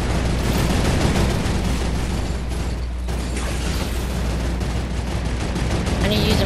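Turret firing rapidly in Fortnite, a dense continuous stream of loud gunfire with mechanical clatter, briefly thinning in the middle before resuming.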